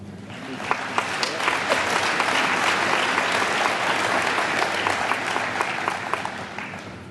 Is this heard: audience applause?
yes